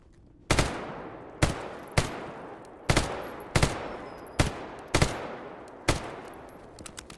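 Gunshots from a first-person shooter game in the GAMMA mod, fired as about eight loud, sharp single shots spaced roughly a second apart with short decaying tails and no talk.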